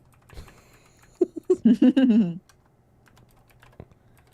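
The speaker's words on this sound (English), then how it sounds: "You guys hear my keyboard?" Scattered soft clicks of keys being pressed on a computer keyboard, close up, with a brief voice breaking in partway through.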